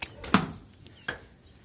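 Pruning a custard apple tree: three crisp snips cut off branches at uneven intervals, close and clear against a quiet outdoor background.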